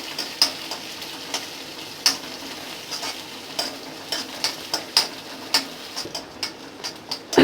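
Shallots and green chilies fry in a pan with a soft sizzle, punctuated by regular sharp clicks of a spoon stirring and tapping against the pan, close and clear.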